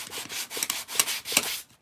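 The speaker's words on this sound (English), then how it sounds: "I am sanding the edges" Rhythmic sanding strokes rubbing across wood, a steady back-and-forth scratch with several pulses, close up, then stopping.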